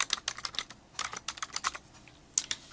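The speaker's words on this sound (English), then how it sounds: "type in your title" Quick bursts of keystrokes on a computer keyboard as a title is typed, close and crisp, in two short clusters with a brief pause between them and no talk.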